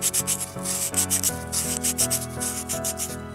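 Rhythmic scratchy strokes of 220-grit sandpaper smoothing the rim of a miniature bowl, close and steady, repeating in quick back-and-forth passes with a faint hum underneath.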